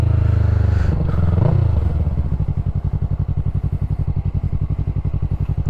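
A Yamaha MT-03 motorcycle engine accelerates gently, as in town riding, heard close and loud with a steady pulsing exhaust that rises smoothly without hard revving.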